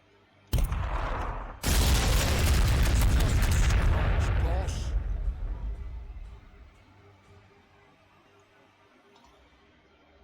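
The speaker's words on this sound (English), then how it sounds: "Maybe we'll just throw some frag back there instead." A frag grenade explodes in Warhammer 40,000: Sanctus Reach, a brief pop followed by a loud, sustained booming blast with crackling debris that rolls on for several seconds before fading.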